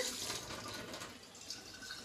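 Water runs into a hookah base as it is filled. The pour is a short, quiet splash-and-trickle heard on its own.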